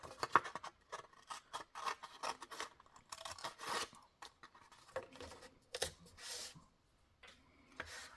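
Scissors snip through paper in a run of short, crisp cuts with brief pauses, close and fairly quiet, while a paper pocket is trimmed from a marked rectangle for a Christmas craft.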